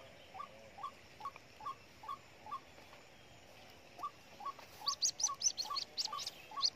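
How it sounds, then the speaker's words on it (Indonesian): A white-breasted waterhen chick gives repeated short peeping calls in a steady series, joined later by quicker, higher chirps, fairly faint against quiet surroundings. "ini anak burung roak-roak"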